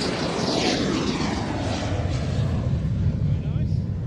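Aircraft arriving at the Royal International Air Tattoo 2022 airshow, a loud continuous engine roar that shifts in pitch as one passes overhead, with speech mixed in beneath it.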